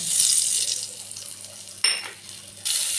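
Prawns seasoned with salt and turmeric fry in hot mustard oil in a wok, giving a loud, steady sizzle with a sharp burst of spattering partway through before settling back.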